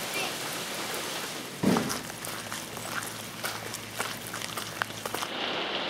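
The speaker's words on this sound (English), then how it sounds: "It's raining!" Steady rain falls near Lake Cascade during a flood, a continuous dense hiss of drops on the ground with an occasional louder spatter.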